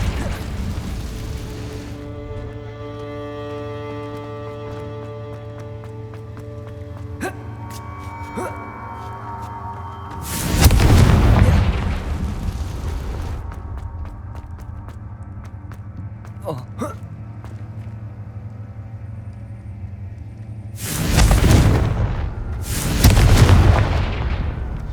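Confringo blasting spells explode in Hogwarts Legacy, three loud booming bursts rising over a steady droning game background, spaced several seconds apart.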